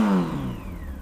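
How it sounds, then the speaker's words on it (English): Brief rev of a refurbished Honda Hornet 900 motorcycle engine fitted with baffles, pitch rising then falling away over about a second, loud and close with no talk. "So there we go, a quick rev up."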